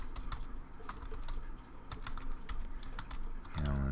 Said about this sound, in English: I hate typing calendar because I don't spell very well